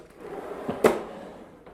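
A drawer in a miter station in a woodworking shop slides and bumps shut once with a short wooden knock, close and moderately loud, with a faint scrape before it.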